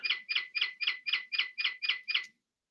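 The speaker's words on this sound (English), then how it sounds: "There goes my other bird clock, y'all. Can you hear it?" A bird clock chimes with a bird call, nine evenly spaced chirps in a steady rhythm, clear and moderately close indoors, then silence.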